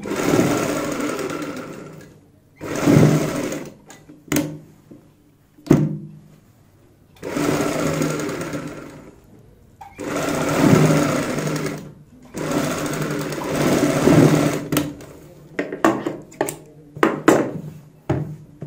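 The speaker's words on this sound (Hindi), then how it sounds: "इस तरीके से सिलाई लगाएंगे ऐसे घुमाते हुए" A sewing machine stitches the neckline of a kurti in several whirring runs of a few seconds each, separated by quiet pauses and a few sharp clicks.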